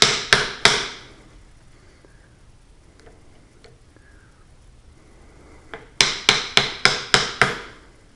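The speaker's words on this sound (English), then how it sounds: "Well, this is more than tap. This is a hammer." A hammer strikes a wooden piece on a large oak in quick sharp blows, three at the start, a quiet pause with faint taps, then a rapid run of about seven.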